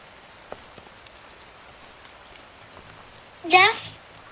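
Soft rain falls continuously in a Sakura School drama scene, a faint steady hiss in the background, with a short voice cutting in briefly near the end.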